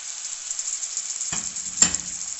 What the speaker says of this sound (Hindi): चिकन को हमने तेज़ आंच पे फ्राई करना है।